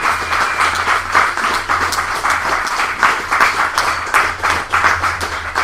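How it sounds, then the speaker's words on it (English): Audience applause closing a featured poet's set at an open mic poetry night, loud and sustained clapping from a room of listeners with a dense, uneven patter, over a low steady hum. "Come on, final applause."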